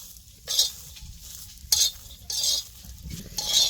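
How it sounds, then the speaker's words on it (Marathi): Indian bean pods sizzle and crackle on a hot griddle, with short bursts of scraping and stirring against a low, steady hiss. "आता ही बघा कसं चट चट भाजल्यात असं भाजून घ्यायचं"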